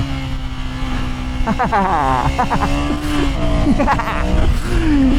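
A motorbike accelerating hard in first gear on a night ride on Gran Canaria, its engine note rising and revving loudly and close under steady wind rush, with a voice briefly heard over it.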